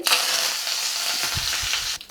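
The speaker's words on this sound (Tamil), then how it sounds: "எண்ணெய் சூடாகிடுச்சு கடுகு போட்டுடலாம் கடுகு போட்டு தாளிக்கும் போது எப்போவுமே அடுப்பை சிம்மில் வச்சுக்கோங்க" Mustard seeds pop and splutter in hot oil for tempering a Tamil mutton kuzhambu, a dense close-up crackle and sizzle running steadily for about two seconds with no voices.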